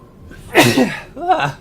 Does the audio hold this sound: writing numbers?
no